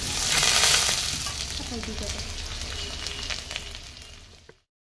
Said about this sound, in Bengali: সেই কড়াইতে অবশিষ্ট তেল ছিল, তাতে খানিকটা তেল দিয়ে দিলাম রসুন ও আদা কুচি